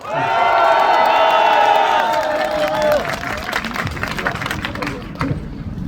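A crowd at a political rally applauds and cheers for a party vice-chair, loud sustained cheering and shouts for the first few seconds that give way to scattered clapping and chatter.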